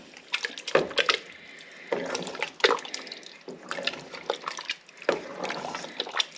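Chili with beef broth stirred in a pot, wet sloshing and liquid scraping in repeated bursts, close and moderately loud, with no talk.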